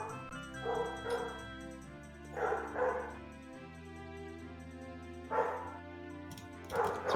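Several dogs barking and yipping in separate bursts, each followed by a pause, with a steady tone running underneath and no talk.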